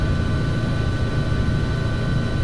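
A helicopter in Flight Simulator X with its rotor and engine spinning up under gentle throttle: a loud, steady, dense mechanical drone with a constant whine, holding at an even level throughout.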